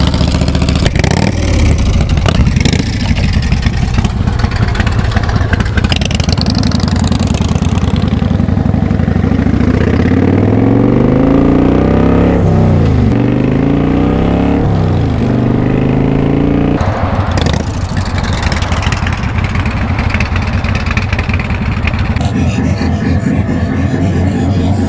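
Custom chopper motorcycle engine idling and revving close by, a loud rough rumble that swells and falls through several throttle blips with rising and dropping pitch, continuous throughout.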